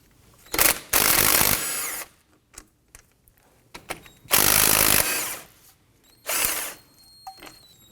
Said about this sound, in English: we're going to use a 17mm socket on the upper and lower slide pin bolt